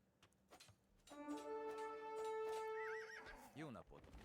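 A horse in the video game Age of Empires II gives a single clear, high whinny that rises and then wavers down at the end. Brief background game sounds come before it, and talk runs underneath.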